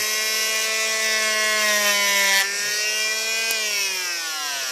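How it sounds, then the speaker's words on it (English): A power tool cuts a slot for the fin in a carved wooden fish decoy, its high steady whine loud and close, with the pitch sagging and recovering as it bites into the wood. "Cuts a slot for the fin"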